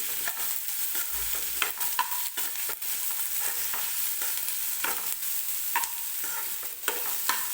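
Peas and onions sauté in a pan for a dish of leftover chapati pieces. A steady sizzle runs underneath while a spatula scrapes and stirs them in frequent irregular strokes, close and fairly loud, with no talking.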